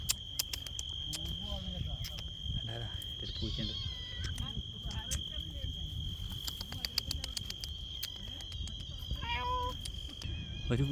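A cat meows a few times outdoors near Al Thakira Beach in Qatar over a steady chorus of crickets, with people talking nearby.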